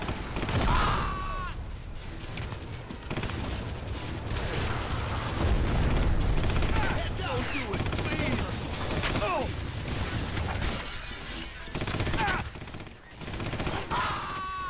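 Gunfire in the video game Red Faction, repeated bursts of shots and automatic fire with booms and mechanical effects across the stretch, loud and dense, with a player talking over parts of it.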